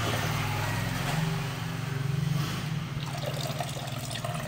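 Evaporated milk is poured into an ice candy mixture, giving a continuous splashing, gurgling liquid stream over a low background rumble, fairly close and steady.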